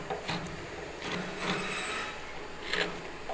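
A Japanese chisel pares thin slivers from the wooden volute at the head of a mandolin neck, giving several soft scraping strokes at close range, each a brief rasp with quiet gaps between.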